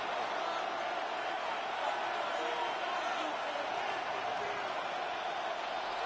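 Steady roar of a stadium crowd in the Madden 26 football video game, a dense, even wash of cheering noise filling the stretch before a 3rd-and-goal play in the fourth quarter of a Packers game.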